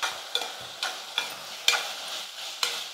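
Elephant yam being stirred in a pan with fried onions and tomatoes, a ladle scraping in about six evenly spaced strokes over a soft sizzle, close and fairly quiet.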